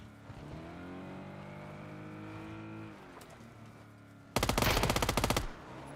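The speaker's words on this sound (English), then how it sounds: "Just SMG drive-by." Gunfire from an SMG in PUBG, fired in a drive-by: a car engine drones for several seconds, then a loud, rapid burst of about a dozen shots lasting roughly a second, with the engine continuing underneath.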